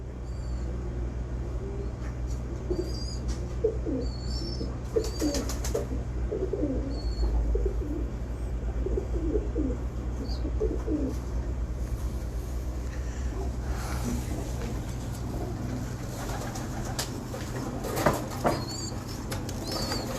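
Pigeons coo repeatedly in soft throaty bursts over a steady low hum, with occasional wing flaps and faint distant chirps.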